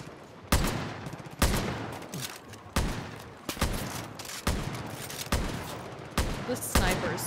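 Sniper gunfire in the co-op shooter Far Cry: New Dawn, loud single shots at irregular intervals about a second apart, each followed by a rumbling tail over steady battle noise.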